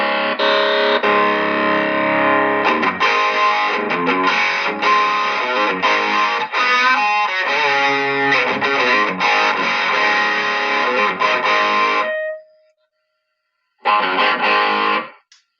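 Distorted electric guitar played through a Diesel Hagen high-gain amp model, loud saturated chords and riffs ringing for about twelve seconds, a brief pause, then another short burst of heavily driven playing.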